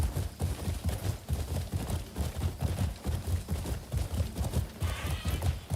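Horse hooves clip-clop in a steady galloping rhythm throughout, with a brief whinny near the end, from a mount in the video game Crimson Desert; loud and continuous with no talk.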